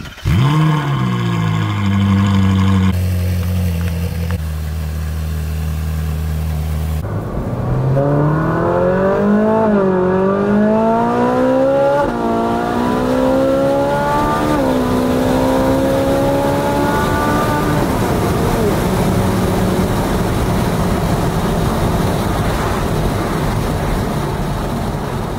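A Ferrari 458 engine on the move, starting with a low steady drone before revving hard through rising, falling pitch sweeps, then settling into loud sustained cruising.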